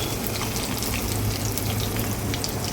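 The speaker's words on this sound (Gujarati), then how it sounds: "હવે આપણે આ ખાંડવી ઉપર વઘાર ચમચીની મદદથી રેડી લઈશું." Hot tempering with sesame seeds spooned over Gujarati khandvi gives a steady, close sizzle and crackle of oil, a continuous fizzing hiss with no talk.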